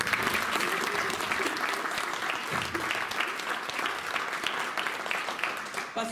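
An audience claps in sustained, dense applause throughout, with a faint voice now and then under the clapping.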